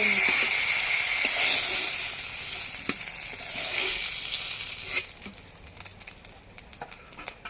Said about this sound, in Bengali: আরও কয়েকটা মাছ ভেজে নেবো